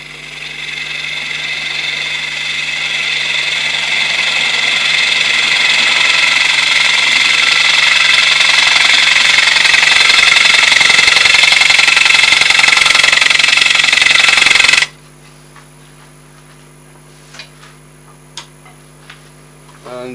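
A bowl gouge cuts wood on a lathe, a loud steady whirring scrape that builds for about fifteen seconds and then stops abruptly, leaving a quiet hum with scattered light clicks.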